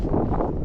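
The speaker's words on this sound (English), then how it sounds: "Proper windy out here, proper horrible." Gusty wind buffets the microphone out in an open farm field, a continuous loud rumbling roar with no talk over it.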